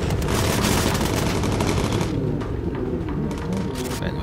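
Rapid machine-gun fire comes from a bomber's gunner in the video game Bomber Crew. Dense, loud bursts rattle continuously, thin slightly toward the end and carry faint game effects underneath.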